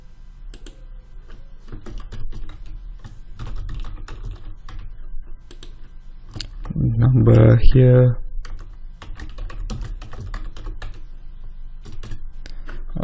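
Steady clicking of keys on a computer keyboard runs throughout, with a brief burst of speech in the middle.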